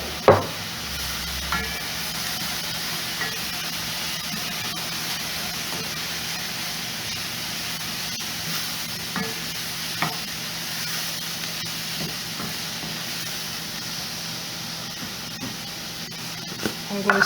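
Raisin and carrot rice being added and stirred in a hot pan, a steady close sizzle with faint scraping stirs and a few soft clicks throughout, no talking.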